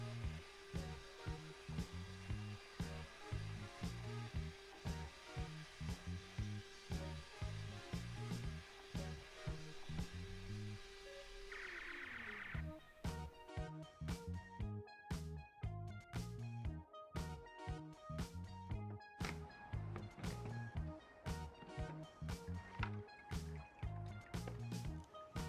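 Evolution R11VAC-Li cordless wet and dry vacuum sucking water from a tray, a steady motor drone broken by rapid gurgling, slurping pulses, loud and close throughout.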